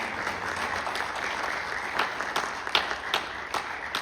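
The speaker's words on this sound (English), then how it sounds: "Let's give her a round of applause, please." Sustained applause from an audience at a high school military signing day ceremony, dense steady clapping with a few sharper accents, continuing for the whole stretch.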